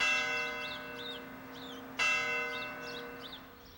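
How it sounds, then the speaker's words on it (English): A courthouse clock tower bell dating from 1827 rings out, one long decaying toll with a second sharp strike about two seconds in, birds chirping faintly behind it. "the belfry, which houses the bell that you hear ringing for the clock tower"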